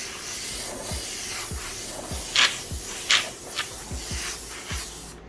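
An airbrush sprays paint to lay down the base and curves of a flame design, giving a steady close hiss broken by several brief louder bursts as the trigger is worked.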